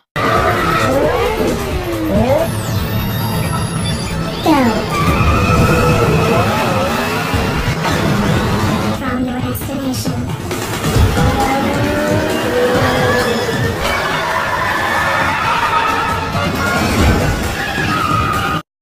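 Street race cars in Fast & Furious 4 speed past with loud, continuous engine roar, rising and falling revs, and tire squeals layered together in a dense, close chase soundtrack.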